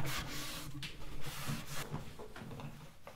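A scrub brush works over a wooden dresser in repeated rough back-and-forth strokes, a close, steady bristly scraping with slight pauses between passes.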